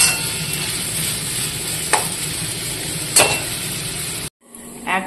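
A frying dish with garam masala and a little ghee gets stirred in the pan, giving a steady sizzle with a couple of sharp utensil scrapes. The sound cuts out abruptly near the end.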